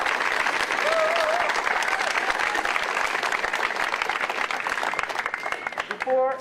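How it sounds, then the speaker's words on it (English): Loud, dense crowd applause at a protest at Legislative Plaza, steady clapping throughout, tapering slightly before a voice begins speaking at the very end. "Give her a round of applause."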